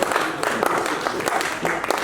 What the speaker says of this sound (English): So clap for the husband.